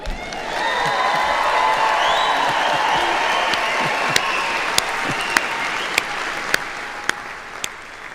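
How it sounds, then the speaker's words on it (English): Louder crowd applause with cheering and a few whoops at a university commencement ceremony, a steady roar of clapping broken by sharp individual claps near the end. "Can I get a louder applause?"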